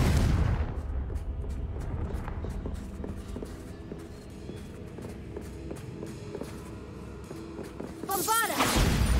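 Confringo fire-blast spell in Hogwarts Legacy: rapid crackling bursts and thumps run steadily for several seconds, ending in a loud whooshing blast near the end.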